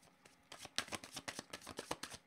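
Oracle cards shuffled by hand in quick riffling bursts, a soft close papery flutter repeating for a couple of seconds with no talking.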